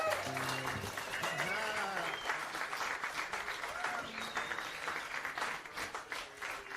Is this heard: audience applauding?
yes